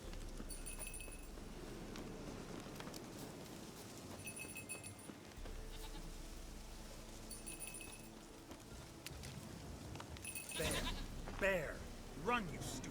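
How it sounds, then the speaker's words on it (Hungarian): A goat bleats in The Witcher 3 in a few short cries near the end, over ambient game music, while someone talks. "Gyere már te buta kecske."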